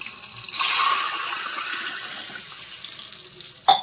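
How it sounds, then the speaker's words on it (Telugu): A glass of water is poured in a steady rush into a hot pan of fried tempering, hissing and bubbling, then tapering off before a brief clink at the end. "ఇప్పుడు మనం గ్లాసు నీళ్లు పోసేసుకుందాం."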